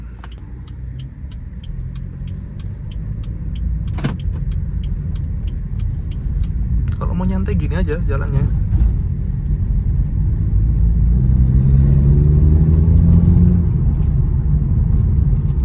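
A 2016 BMW F30 drives with a steady engine rumble that builds and swells toward the end, and a person speaks briefly over it early on.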